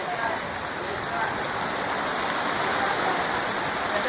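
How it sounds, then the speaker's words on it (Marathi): Heavy unseasonal rain pours down steadily in Mangaon, a dense, continuous hiss that holds an even loudness throughout, with a faint murmur of voices beneath it. "आता जोरात पाऊस आलाय."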